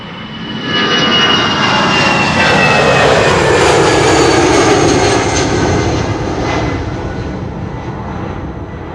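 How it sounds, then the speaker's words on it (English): A Boeing 777-200 taking off at Schiphol Airport, its jet engines building into a loud, sustained roar that swells, holds steady and begins to ease slightly as it climbs away. "Parallel to it, A777-200 takes off"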